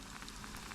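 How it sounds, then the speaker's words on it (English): Taro donut dough for Samoan panikeke frying in boiling oil, a steady soft hiss and crackle of bubbling throughout, faint and continuous with no talking. "now the oil is actually boiling"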